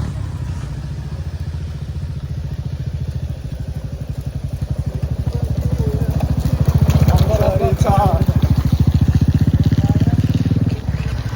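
A motorcycle rides over a rough road on the way to a waterfall, its engine a steady throbbing chug that grows slightly louder, with voices talking over it.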